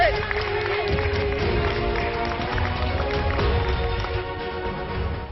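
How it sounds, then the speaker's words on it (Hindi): Loud, sustained applause and cheering from a crowd for a 105-year-old woman sprinter from Haryana at a racing track, a dense steady roar of clapping that holds for several seconds without letting up. "जोरदार तालियां"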